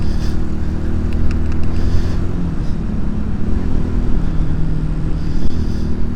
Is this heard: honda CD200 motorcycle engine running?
yes